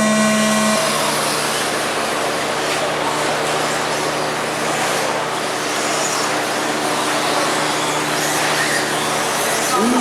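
Two-wheel-drive 13.5 stock stadium RC trucks race in the A main at Washtenaw RC Speedway, their electric motors whining in a steady, dense buzz that swells and fades slightly as they circle, with faint talk underneath.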